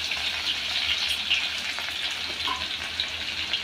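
Crushed garlic crackles in hot oil for a potato bhaji tempering, a bright, steady sizzle with small sharp pops scattered through, close and unbroken, with no talking.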